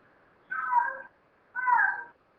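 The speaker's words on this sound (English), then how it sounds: "That's cat." A cat meows twice, each call about half a second long and evenly spaced, clear and close against a quiet background.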